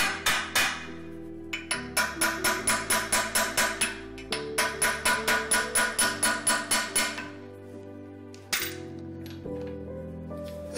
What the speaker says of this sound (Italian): Adesso si procede a battere.